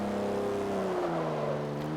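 A 1959 Jaguar Mark II's 3.8-litre six-cylinder engine hums and revs in Forza 7 on the Top Gear track, its steady tone sliding down in pitch as it shifts, close and alone.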